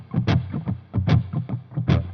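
Muted electric guitar strings played percussively with fuzz distortion and spring reverb, a rhythmic pattern of choppy strums with three stronger accented hits, alone.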